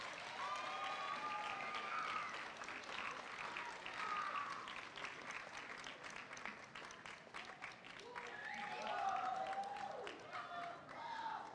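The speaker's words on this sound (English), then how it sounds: "Let's give it another round of applause for our scholars." An audience at a middle school moving-up ceremony applauds its scholars with dense, sustained clapping, mixed with cheers and whoops at moderate distance throughout.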